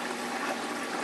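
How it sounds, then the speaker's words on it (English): Water from a small acclimation cup is dumped into a 29-gallon aquarium tank, a steady splashing pour that stays even and close for the whole moment. "I take a little bit of the water from the acclimation cup and dump it into the tank"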